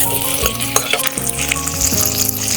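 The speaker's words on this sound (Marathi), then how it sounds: "याच्यात थोडीशी कोथिंबीर टाकून देऊया. ती पण हाय फ्लेमवर परतून घेऊया." Tomato and coriander sautéing in hot oil on high flame, a loud close sizzle broken by scrapes and light clinks of stirring, with no talking.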